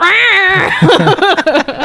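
A human voice imitates an angry cat's meow, a loud drawn-out whining yowl up close, followed by a few quick broken vocal bursts.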